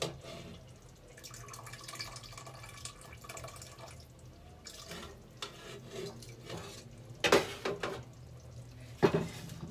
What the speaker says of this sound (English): So let me turn some water.